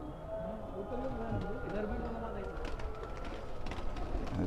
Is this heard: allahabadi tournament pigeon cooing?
yes